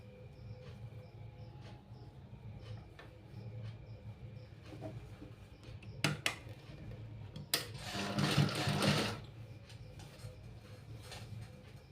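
A sewing machine stitching the folded bottom hem of a nightie: a quiet mechanical whir with scattered clicks, then short louder bursts of rapid stitching near the end, with no talk.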